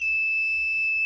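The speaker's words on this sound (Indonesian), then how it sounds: "Jadi ketika ada gas bocor dia akan bunyi." Homemade gas leak detector alarm sounding a continuous high-pitched electronic buzz, close and steady for about a second, with faint low handling noise underneath.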